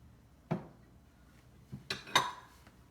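A plate is set under a glass jar of fermenting cabbage on a kitchen counter, giving a dull knock followed by a few sharp ceramic and glass clinks, close and quiet.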